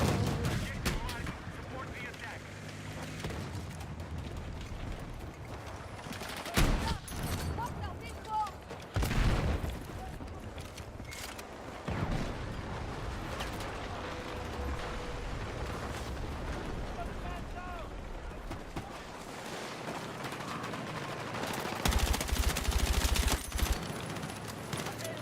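Gunfire and heavy impacts in Battlefield 6, rounds striking a building amid sustained battle noise with booming blasts and bursts of shooting, while a person talks over the combat.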